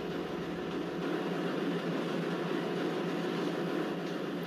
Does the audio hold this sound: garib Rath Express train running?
yes